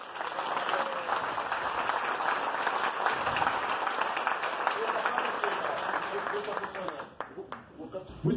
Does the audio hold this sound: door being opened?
no